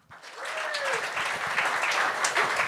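An audience at a stand-up comedy show claps in a quick swell that starts after a brief quiet moment, with scattered whoops and voices mixed into the applause.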